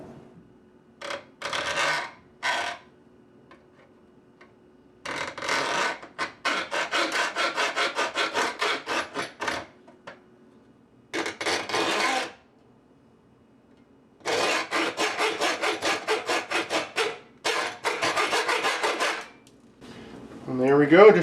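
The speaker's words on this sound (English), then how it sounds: "take my hacksaw and make one straight cut in this direction and another straight cut here" A hacksaw cuts through a metal ukulele tuner plate in several separate bursts of quick back-and-forth strokes. The sawing is close and crisp, with short pauses between runs.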